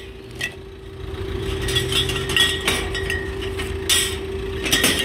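Japanese beer bottles clink and knock as they are loaded into a shopping bag, several sharp glassy taps and rustles over a steady engine hum in the background, with no talking.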